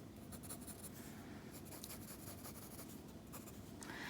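A pencil sketches on paper, a steady scratchy scraping made of short strokes in quick succession, close and continuous, with a brief lighter tap near the end.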